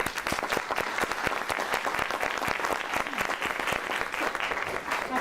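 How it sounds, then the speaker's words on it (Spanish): An audience claps continuously and densely at an education event about Chile, a steady, moderately loud wash of many hands with no pauses or voices over it. "Así que se merece un gran aplauso."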